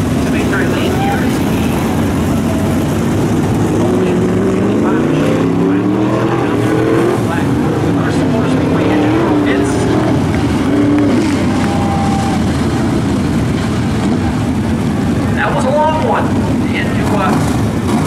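IMCA race cars in a feature race at Crystal Motor Speedway, their engines whining and rising and falling in pitch as they pass. The racing noise runs steadily under continuous announcer commentary.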